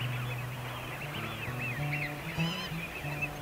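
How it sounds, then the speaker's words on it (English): A pair of barnacle geese on a winter marsh at Frampton give a busy chorus of overlapping yapping honks and calls, moderately close and steady, with no voices. "a pair of barnacle geese"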